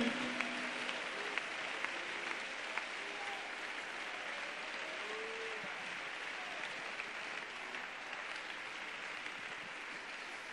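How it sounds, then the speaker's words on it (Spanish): Steady applause from a church congregation fills the room, a dense continuous patter of many hands clapping at even loudness throughout, with no clear voices over it. "creo que merece el Rey un aplauso de tu corazón para Él."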